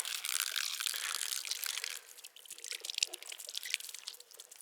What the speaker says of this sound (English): the main line is draining on the ground